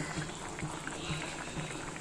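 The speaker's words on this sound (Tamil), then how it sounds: "கொதிக்கட்டும் நல்லா கொதிக்கட்டும்" Mutton bone curry simmering in a pot, a steady low bubbling boil with soft pops throughout, close and moderately loud with no talk.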